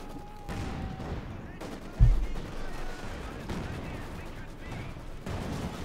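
Tank cannon fire and shots from a WWII combat video game, with a Panther tank and a T-34 engaging: a continuous rumble of battle noise, marked by one heavy, punchy cannon blast partway through, with occasional talk over it.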